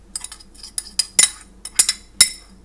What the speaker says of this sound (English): We'll stir it around.